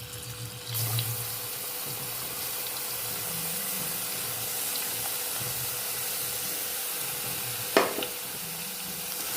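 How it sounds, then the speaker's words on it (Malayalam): Curry leaves and green chillies sizzle steadily in hot oil in a pan, a continuous close crackle with a brief clatter near the end. "ഇതിലേക്ക് കറിവേപ്പിലയും പച്ചമുളകും ഇട്ട് കൊടുക്കാം."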